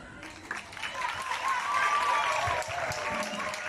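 Applause from an audience at a high school presentation on menstrual hygiene day, a sustained dense wash of clapping lasting several seconds, with voices mixed in beneath it.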